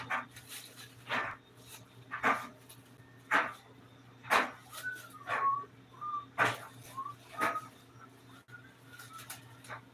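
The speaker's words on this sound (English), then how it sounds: "And I got the dog underfoot" A dog underfoot in a home kitchen, where pork chops are being prepared, gives a run of short, sharp barks at an irregular pace, mixed with high whimpering whines. The sounds are close and moderately loud, with no talking.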